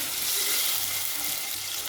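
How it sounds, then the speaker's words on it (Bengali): A splash of water poured into a hot frying pan of onions and ginger garlic paste makes a dense, steady rushing hiss that fills the short moment close up. "একটুখানি পানি দিয়ে দেবো।"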